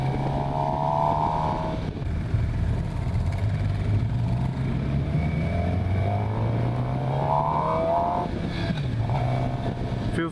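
A 2015 Suzuki GSX-R750 sport bike held at full throttle on a test ride, its engine a loud, continuous high-revving howl with pitch sweeping up through the gears and short drops between shifts, close and unbroken for the whole stretch.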